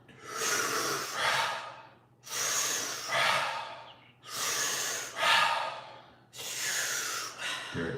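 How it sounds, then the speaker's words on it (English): Deep breathing in a guided breathwork session: four long, forceful inhale-exhale cycles in a steady rhythm, close and airy, with a low hum underneath. "Keep breathing, a few more."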